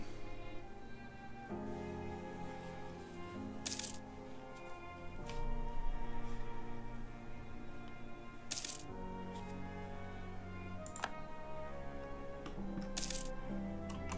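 Bright metallic coin clinks signal a money gift received in Europa Universalis IV, several separate chimes spaced seconds apart over a soft, steady orchestral game soundtrack.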